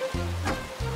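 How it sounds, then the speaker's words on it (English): Rain falls outside in a cartoon, a steady soft hiss heard over a brief low humming tone that cuts off and returns. "And it's raining outside."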